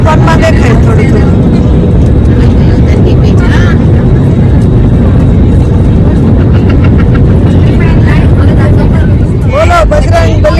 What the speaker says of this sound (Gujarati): ફાઇનલી પ્લેન લેન્ડ થઈ ગયું.